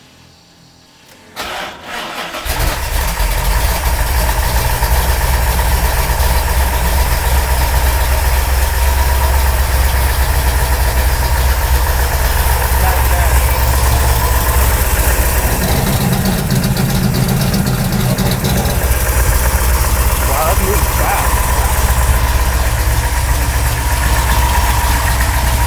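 A 1969 Dodge Charger R/T fires up after a short crank and settles into a loud, steady idle that stays close and fills the rest of the clip, with a slight shift in tone partway through.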